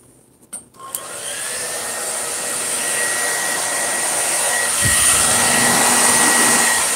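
A blow dryer on its warm setting heats a vinyl skin: two soft clicks as it starts, then a steady, close, loud whirring rush of air that grows slightly fuller partway through.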